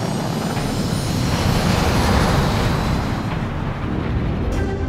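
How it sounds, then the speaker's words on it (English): An F-16 fighter jet roars on the runway during takeoff, a loud broad continuous engine rush that holds steady and then begins to thin out, with no voices. "the F-16 is ready to hit the runway and take to the air"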